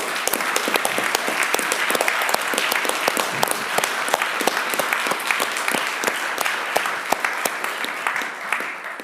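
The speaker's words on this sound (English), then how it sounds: "So let's give him a round of applause." Symposium audience applauds in a sustained round of dense clapping with crisp individual claps throughout, holding steady and easing slightly toward the end.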